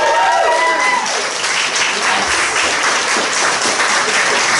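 Comedy club audience applauding the organiser, a loud, dense burst of clapping that fills the room and stays steady throughout, with no talking over it.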